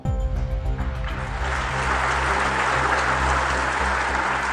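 Sustained applause from a large audience at a public address marking the RSS centenary, a dense, steady wash of clapping heard without speech.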